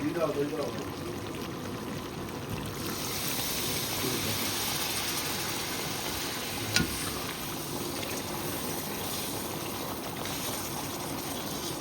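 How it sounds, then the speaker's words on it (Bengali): Water poured into a pot of spiced duck meat curry being cooked down in oil at a winter evening picnic, a steady broad rushing pour lasting several seconds with a brief louder splash partway through. "জল দিয়ে দেবো এবার"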